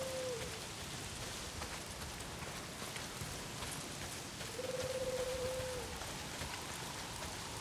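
Steady rain pouring down in the video game Days Gone, a dense continuous hiss at moderate volume, with a faint tonal whine appearing twice, no speech.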